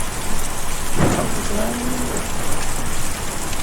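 Steady, loud rain from a thunderstorm in the video game Kentucky Route Zero, a dense continuous wash of hiss with a brief crackle of thunder near the start and a faint tone under it, no speech.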